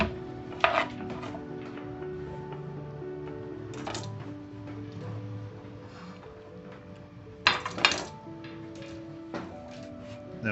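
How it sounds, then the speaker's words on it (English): A knife dices onion on a cutting board for home fries in a steady stream of soft taps, with a few sharper, louder chops standing out, close and alone with no talk. "just keep dicing them until they get to the nice same size, small diced onion."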